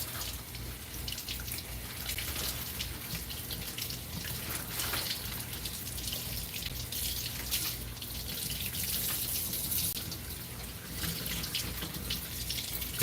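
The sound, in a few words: rinsing asparagus under running tap water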